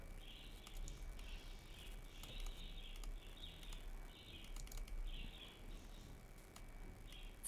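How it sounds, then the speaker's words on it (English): Pet birds call and chirp indoors in short repeated bursts of bright notes, fairly faint and in the background, with no talk. "I hear my birds freaking out again."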